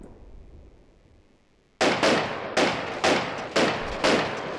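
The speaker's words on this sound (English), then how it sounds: "anti-aircraft gun's scoring good hits there" Anti-aircraft gun firing in the Combat Mission wargame, a sudden burst of five heavy, evenly spaced booming shots after a quiet lead-in, loud and close.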